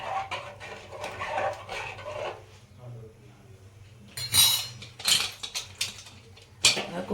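A metal spoon stirs dal with salt, ghee and turmeric inside a pressure cooker, producing soft scraping followed by several sharp metallic clinks against the pot in short bursts, close by.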